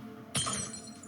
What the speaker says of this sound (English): On the floor lies a shattered vase.